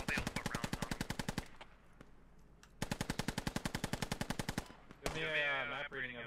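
Video game gunfire comes as two long machine-gun bursts of rapid evenly spaced shots, loud and close, with a short gap between them, then a different whining mechanical sound takes over at the end.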